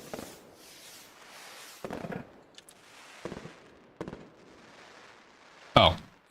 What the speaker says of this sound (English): So we got fireworks sounds now?